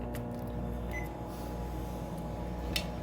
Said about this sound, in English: Warm these up in the microwave